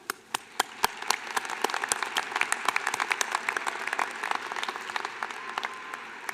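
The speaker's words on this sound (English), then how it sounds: "Graduates, please join me in applauding all the friends, family, professors, mentors, and others who have supported you along the way" Applause at a university commencement ceremony, beginning with a few scattered claps that quickly build into a steady spread of hand clapping from a large audience, with individual claps clear and crisp.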